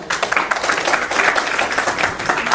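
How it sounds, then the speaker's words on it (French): An audience at a political party gathering claps steadily and fairly close, a dense ragged patter of hands filling the room without pause. "Applaudissez-les encore."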